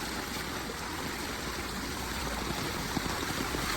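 Steady rushing floodwater flows continuously into a low-lying house in San Mateo, Rizal, a broad even wash of sound with faint gurgles, fairly quiet and close, with no talking.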